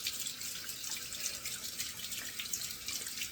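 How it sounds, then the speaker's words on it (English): Tap water runs steadily into a sink while a hand and a spoon covered in shaving soap are rinsed under it, close and continuous with light splashing and no speech. "Wash off my hand and the spoon here too as well."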